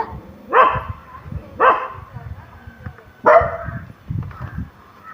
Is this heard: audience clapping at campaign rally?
no